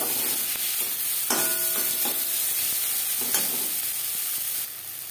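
Crushed garlic sizzles in a pan with fried onion and tomato, a close, steady frying hiss broken by a few sharper bursts and scraping stirs.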